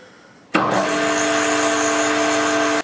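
A lathe spins a gym weight plate held in its jaw chuck at about 380 RPM, its motor switching on abruptly into a steady, humming whine that holds evenly for a couple of seconds before cutting off.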